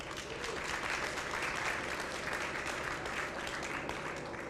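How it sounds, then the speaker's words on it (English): A morning meeting audience on the Costa del Sol in Marbella applauds in a dense, even wash of clapping, soft and steady throughout, with no voices over it. "A round of applause."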